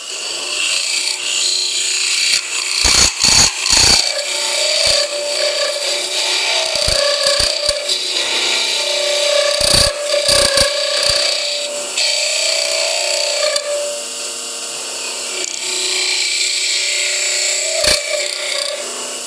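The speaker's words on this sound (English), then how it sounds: "I'm going to stop the lathe" A wood lathe spins a workpiece while a hand tool shapes a curve, giving a steady rasping scrape broken by sharp, loud bursts and brief gaps, close and alone.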